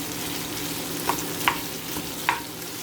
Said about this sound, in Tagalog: lutuin muna natin ang pork